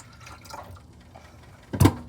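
Water is poured into a glass at home in one short, loud splashing burst near the end, after a few seconds of faint room noise.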